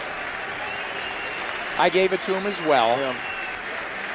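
Boxing crowd applauding ringside in Switzerland at a heavyweight title fight, steady applause filling the background while a commentator's voice talks over it.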